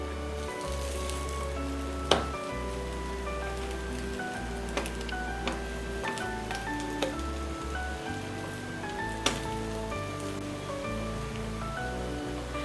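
Bread roasting in ghee in a pan for a sweet French-style chocolate sandwich, a steady soft sizzle and crackle with occasional sharp pops, close and continuous without any talk.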